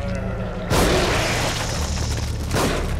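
Two heavy gunshots boom out in The Evil Within horror game, about two seconds apart, each a loud sharp burst with a long rumbling decay over low game ambience.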